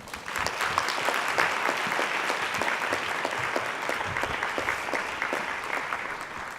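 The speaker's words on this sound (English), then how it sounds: "Please give a warm round of applause." Warm audience applause for a fashion and innovation panel: sustained, dense clapping from a room of people, steady and moderately loud, fading slightly toward the end.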